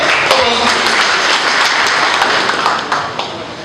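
A crowd at a Congress party political rally applauds loudly, a dense continuous wash of clapping that holds steady and tapers slightly toward the end, with some voices under it.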